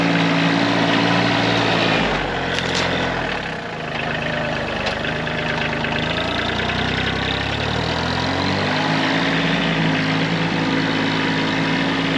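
Close by, a tractor engine runs at a steady idle with a low rumble, its pitch dipping and recovering briefly as the load shifts, then holding steady again.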